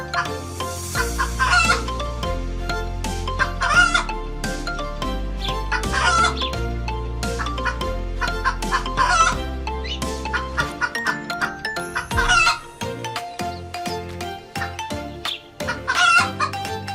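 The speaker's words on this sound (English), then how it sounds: "Chicken." A chicken clucks and crows in rhythmic bursts over a steady low backing, loud and close, with repeated cackling phrases recurring every couple of seconds and a brief pause near the middle.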